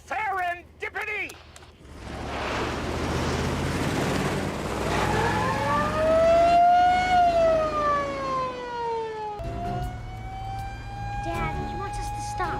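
A state trooper's police car siren in a movie chase wails up and down, loud and close, over engine rumble. Brief voices come just before it, and the wail later settles into a steadier tone.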